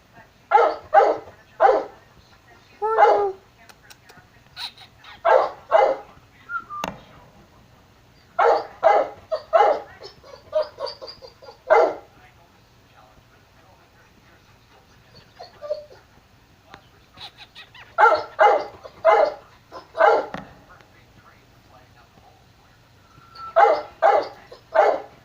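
A dog barks loudly and close by in repeated bursts of several quick barks, with quiet pauses between them and faint bird sounds in the background.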